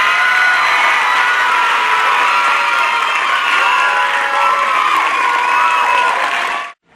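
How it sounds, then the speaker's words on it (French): A school audience at a middle-school eloquence contest claps and cheers loudly for the runner-up: dense applause mixed with whoops and children's shouts, sustained for several seconds before cutting off abruptly. "s'il vous plaît, applaudissez bien fort, Cyril!"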